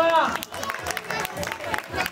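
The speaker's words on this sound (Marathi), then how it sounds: "धन्यवाद टाळ्या वाजवा।" Applause from a crowd at a Ganesh mandal festival gathering, brisk and dense clapping running throughout, with voices mixed in under it.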